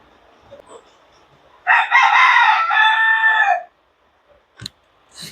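A single loud rooster crow of about two seconds, rising and holding before trailing off, followed by quiet with a couple of faint distant bird calls.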